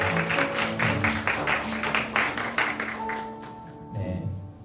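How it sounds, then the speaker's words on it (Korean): A church congregation at a university mission fellowship's semester-opening worship service claps in welcome, a sustained roomful of hands that tapers off toward the end, with a soft sustained keyboard tone and a voice beneath. "서로에게 환영과 축복의 박수를 보내드리면서 오늘의 찬양을 시작했으면 좋겠습니다"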